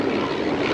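Engine of a Stampe biplane flying an air display: a steady propeller drone at moderate distance, brief and even in level, with nobody talking.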